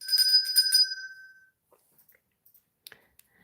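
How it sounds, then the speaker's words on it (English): A bell rings near and bright, struck in a quick run of several tones for about a second and fading out, followed by faint scattered clicks in quiet. "So we can have a bell for this one, please."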